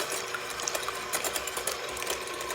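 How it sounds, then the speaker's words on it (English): An electric mixer whirs steadily while beating eggs in a bowl, a close continuous buzzing hum with faint rattling of the beaters against the bowl. "I'm going to use my electric mixer. So I'm going to go ahead and start beating the eggs."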